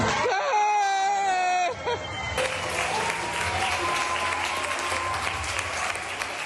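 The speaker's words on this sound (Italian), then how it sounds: "Gli applausi in sottofondo, quelli che si sono sentiti ieri sera nella sala del Cinema Italia di Belluno" Applause in the Cinema Italia hall in Belluno at a David di Donatello film award announcement, steady clapping that swells after a brief tonal cue at the start, with a voice speaking over it.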